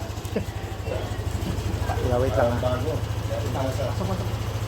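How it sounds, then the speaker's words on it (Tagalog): A Yamaha Aerox V2 scooter engine with a noisy engine fault idles with a steady low, pulsing chug while a person speaks briefly over it. "Ito na yung tunog ng motor"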